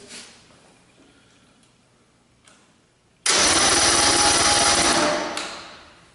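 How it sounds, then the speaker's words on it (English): A four-cylinder outboard engine is cranked during a spark check, a loud sudden whirring burst that follows a quiet stretch and lasts about two seconds before fading. "When I crank the engine"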